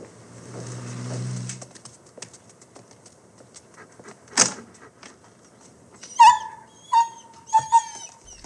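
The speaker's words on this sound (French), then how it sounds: "우연히 길가에서 마주친 한 강아지가 그를 쫓아오기 시작하죠." A stray dog in a film scene gives a few short whimpers and yelps close by near the end, after quiet stretches broken by a low rumble and a single sharp knock.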